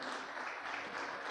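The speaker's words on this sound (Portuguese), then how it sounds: "Você pode aplaudir o Senhor" Church congregation applauding during a couples' gathering service, steady dense clapping filling the short stretch with no break, moderately loud and close.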